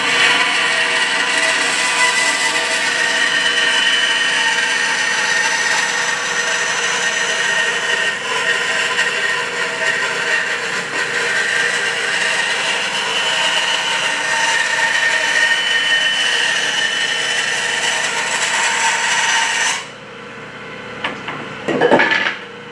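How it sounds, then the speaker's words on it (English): Band saw making a rip cut through wood with the material flat on the table, a loud, steady cutting whine held close for about twenty seconds before it drops away into quieter clatter at the end, no talking. "So, get the blade started, material flat on the table,"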